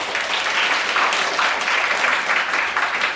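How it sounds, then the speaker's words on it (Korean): A sustained round of applause from a youth camp concert audience for a reporter, steady and fairly loud throughout. "예슬 기자님한테도 박수 한번 부탁드리겠습니다"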